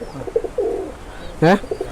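Pigeon, a meda-pulli type bird flown for over ten hours, cooing in short soft rising calls near the listener, ending in one louder, fuller coo with a faint voice murmuring beneath.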